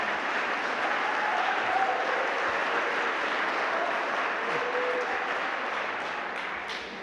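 Sustained applause from the audience at a Leesburg city commission meeting rolls on evenly for several seconds, moderately distant, then tapers slightly toward the end.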